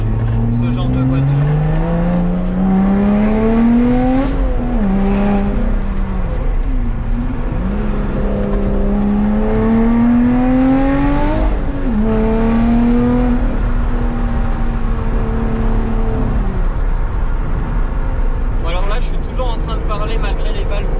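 A Lotus Exige 380 Sport drives with its exhaust valves open, the engine droning loudly and rising and falling through repeated revs and gear changes, close and continuous while someone talks over it.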